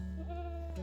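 A goat on a snowy winter farm gives a short, nasal bleat lasting under a second, close and moderately loud over a steady low background hum.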